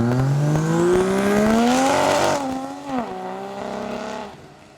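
Turbo Barra engine in an 80 series, misfiring, revving hard with a rising, rough drone that dips and recovers unevenly, loud and close with no talking.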